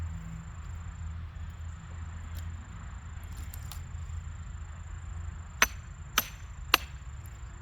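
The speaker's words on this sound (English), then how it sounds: "As you're splitting this tree, you're going to hear the wood start to separate." Wood cracking and separating as a small tree is split for fence posts, three sharp percussive cracks near the end over quiet outdoor ambience with faint insect buzz.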